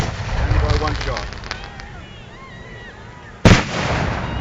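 A 4-inch firework shell launches from a mortar at a university arts festival display, one loud close thump heard by the firing crew after a stretch of talk over the radio.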